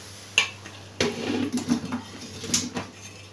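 About eight to ten strawberries drop into a blender jug, making a few distinct knocking clatters, with a couple of sharp hits followed by softer tumbling bumps close by.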